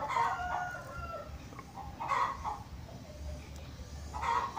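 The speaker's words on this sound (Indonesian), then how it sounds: "mohon maaf ya kalau ada suara ayam berisik" Chickens cluck steadily close by while a rooster crows in repeated bursts over a low background hum, with no talking.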